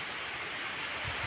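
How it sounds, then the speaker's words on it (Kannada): Rain falls steadily in a broad, close hiss with no voices. "ಮಳೆ ನೋಡಿ ಅಂತೆ"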